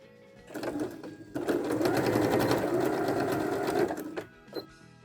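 A sewing machine stitches elastic onto a fabric Kindle, tablet or phone holder, running in a short burst and then one steady whirring run of about three seconds before stopping, with a brief extra stitch at the end.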